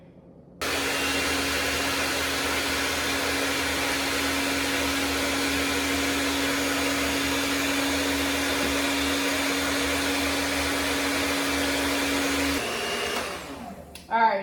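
An electric mixer beats batter for a Thanksgiving dinner, a loud, steady motor whir that starts abruptly, holds for about twelve seconds, then cuts off with a brief clatter at the end.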